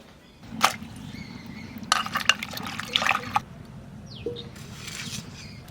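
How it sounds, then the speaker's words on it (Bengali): Water splashes and trickles into a pot of bitter lentil dal with drumstick and bitter gourd, in short uneven pours with a few louder gushes, faint and close against a low background hum. "ডালি জল দিয়ে দিলাম"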